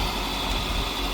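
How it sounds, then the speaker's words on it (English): A Nissan Altima's power steering pump whines as the engine idles, a steady high tonal drone over a continuous low engine rumble, close and unbroken for the short stretch. "Yeah, that was the power steering we were hearing."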